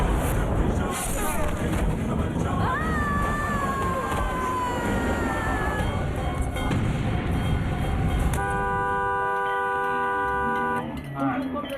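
Vehicle horns blaring on a road near a herd of cows outside a Kali temple, a rising tonal blast followed later by a long multi-tone horn, with a voice speaking over much of the noise.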